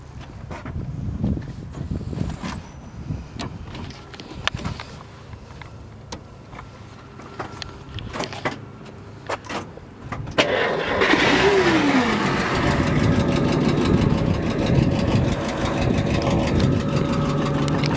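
A 1937 Plymouth P4 Deluxe Coupe flathead engine is cranked after scattered clicks and handling noises, catches at about ten seconds and settles into a steady, fairly close idle through to the end.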